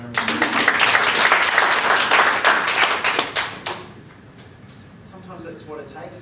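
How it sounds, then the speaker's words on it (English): An audience gives a dense, loud round of applause at a coaching and networking event, then the clapping fades out after about four seconds into quieter room sound. "Can we give Colleen another round of applause?"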